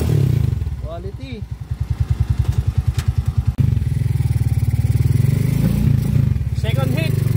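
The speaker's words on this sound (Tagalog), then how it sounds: "Boss J Mags, nakakabit na yung racing CDI mo dito sa kinonvert natin na 200cc" A 200cc converted motorcycle engine fitted with a racing CDI revs up close and loud in rapid pulsing bursts, dropping back and climbing again, with a brief voice partway through.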